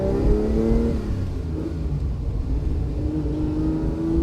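A 1969 Ferrari 365 GTC V12 accelerates along a farm road, its engine note rising in pitch, dropping at a gear change, then climbing again, loud and close from inside the car.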